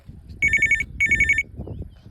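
A phone ringtone plays two electronic bursts of rapid warbling tones, each lasting under half a second, separated by a short gap, loud and close, with background noise and no talking.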